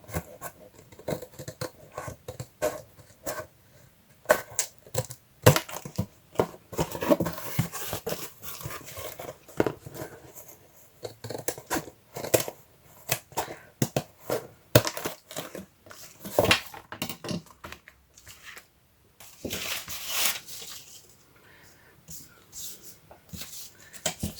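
Scissors snipping paper pieces for a handmade journal cover, many close, irregular crisp cuts and rustles of paper, with occasional talk in between.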